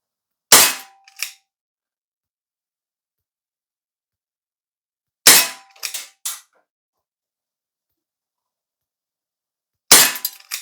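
An ASG Dan Wesson 2.5-inch gold CO2 BB revolver fires three separate times, spaced several seconds apart, each a sharp loud crack with a brief mechanical click or second snap right after, over silence.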